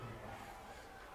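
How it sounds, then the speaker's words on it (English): Fans at a rivalry basketball game, the Battle for the Paddle, roar in a steady, dense crowd noise that fills the whole moment without a break. "These fans are getting into it, Liam."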